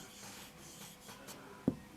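Chalk or a marker scratches across a board as Urdu words are written out, a soft rubbing stroke ending in a short tap, close by with no one talking.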